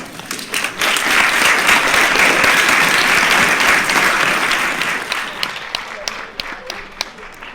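Sustained audience applause at a mock presidential debate, loud and steady for several seconds, gradually thinning into scattered claps toward the end.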